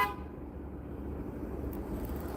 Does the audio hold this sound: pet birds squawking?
no